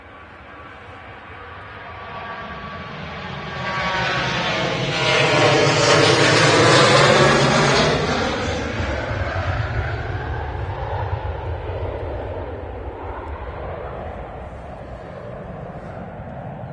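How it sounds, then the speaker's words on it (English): TUI Boeing 737 jet taking off at Manchester Airport, engine roar swelling to a loud peak with a sweeping whine as it passes close, then fading into a steady distant rumble. "TUI 737 after Forteventura."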